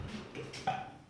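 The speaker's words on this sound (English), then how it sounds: "Are you gonna burp?" A child lets out a short, soft burp in a quiet room, one brief throaty rasp with no talking over it.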